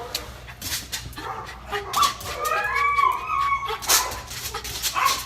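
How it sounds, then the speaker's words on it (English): A schnauzer dog whimpers and yips in a string of short, high whines close by, with a few soft barks and breathy noises mixed in. "He's a schnauzer."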